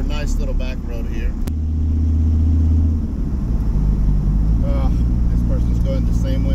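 A Dodge Viper cruising along a back road, its steady low engine rumble loud and close throughout, with a brief sharper rise partway through.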